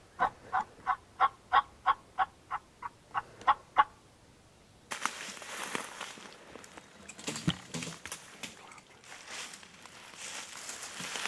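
A wild turkey gobbling on a youth-day turkey hunt, a rapid series of a dozen or so clear rhythmic gobbles, followed by rustling and crinkling close by as the hunters shift around.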